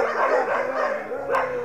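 A dog barks and yips on a residential street while a kite is flown, a couple of close, strained barks with a whimpering tone in a short burst, no talking.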